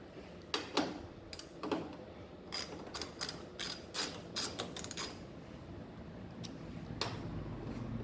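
A ratchet wrench loosens the single 10 mm bolt holding the power steering reservoir on an Acura RSX or Civic Si, giving bursts of close, rapid clicking, with a few sharper taps near the end.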